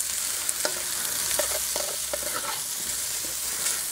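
Oil sizzling in a Dutch oven on a Big Green Egg ceramic grill while pork chops with sauerkraut cook, a bright, constant hiss with scattered light clicks and scrapes from the pot, up close.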